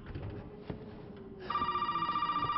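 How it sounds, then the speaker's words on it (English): In the horror game Resident Evil 7: Biohazard, a telephone suddenly starts ringing, a steady electronic trill that cuts in after quiet ambient rumble and repeats rapidly and loudly. "Not the phone again."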